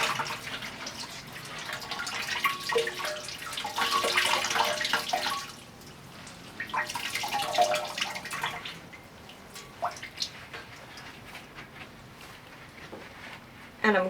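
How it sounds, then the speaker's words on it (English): Water splashing and dripping as wet fabric is lifted from a natural dye bath and squeezed and wrung, with irregular trickles and drips close by and quieter pauses between squeezes. "remove the fabric, squeezing the dye inside"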